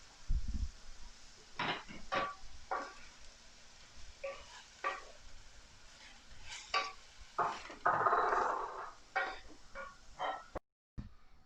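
Cauliflower and potato stir fry being stirred in a pan, with a series of scraping, clattering strokes of a utensil against the pan and a brief louder sizzling burst, no talking.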